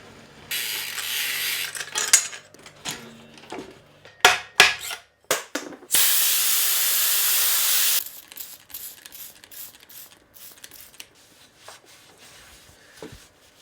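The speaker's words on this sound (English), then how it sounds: "That waterless wash honestly does such an amazing job, and we clean the bike indoors." Waterless wash sprays in hissing bursts onto a grubby jump bike being cleaned indoors, with clicks and ratcheting of bike parts between them and one long steady spray in the middle.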